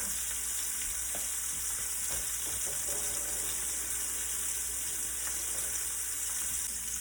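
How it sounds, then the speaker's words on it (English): Shrimp searing in a pot for a Cajun seafood alfredo, a dense continuous hiss of hot fat with faint clinks and stirring taps in the first seconds, steady and close throughout. "Just enough to get a brown sear"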